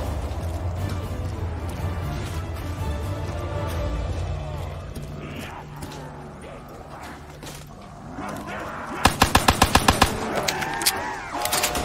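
Gunfire in Call of Duty Black Ops 3 Zombies, a quick burst of sharp automatic shots that arrives late and stands out over a busy background of game music and effects.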